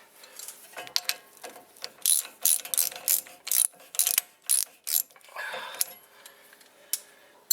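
A 1/2-inch ratchet turning a 21mm nut on a 2006 Dodge Dakota during a front wheel bearing job: a series of close, crisp clicking bursts in irregular rhythm, with short pauses between strokes.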